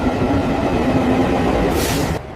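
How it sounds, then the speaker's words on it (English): A train arriving at a station: a loud, steady low rumble and rolling hum throughout, with a brief burst of hissing near the end before it cuts off. "The train is arriving at the station."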